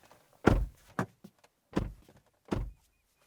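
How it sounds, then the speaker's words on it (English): Several solid, muffled thunks of a 2025 Kia K4 car door shutting, spaced about a second apart, close by in an otherwise quiet space. "That's what our door slam sounds like."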